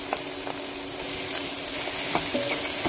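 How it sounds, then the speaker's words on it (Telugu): Onions fry with ginger paste, green chillies and coriander in a pan, a soft steady sizzle broken by several light clinks and scrapes of a spoon stirring. "మంచిగా మిక్స్ చేసుకోవాలి ఇదంతా."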